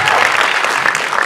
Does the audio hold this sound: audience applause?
yes